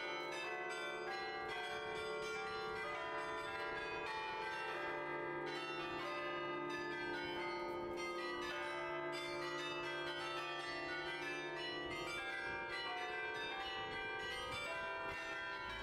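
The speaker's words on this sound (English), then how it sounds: "we were at the top of the tower at 10 am, which allowed us to witness the actual bell ring" The Belfry tower bell in Bruges ringing at 10 am, heard from the top of the tower: a continuous, layered carillon peal of many overlapping bell tones that sustains evenly throughout with no voices.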